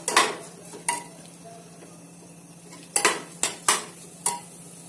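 Rice being stirred and sautéed in ghee in a pot, a utensil scraping and clinking against the metal several times in irregular bursts over a low steady sizzle, with no one talking.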